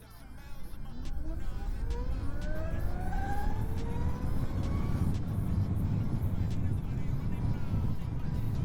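A 2023 Zero Motorcycles S electric motorbike accelerating hard: a smooth electric whine glides steadily upward in pitch over several seconds, riding on heavy, constant wind roar close to the rider.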